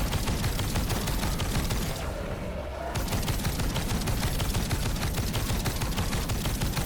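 Rapid automatic gunfire from a video game gun emptying a magazine at a Smasher, a dense rattling burst that stops briefly for under a second and then resumes at full pace.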